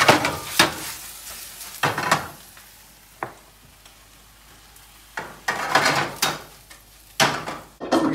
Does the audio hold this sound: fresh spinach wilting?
yes